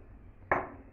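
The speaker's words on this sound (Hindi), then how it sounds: "एक पाव आंवला मैंने सॉस पैन में डाल के रख दिया है। अब इसमें 1 कप के करीब हम पानी" Water poured into a saucepan holding a quarter kilo of amla (Indian gooseberries): a sudden close splash starts midway and fades quickly, with no talk.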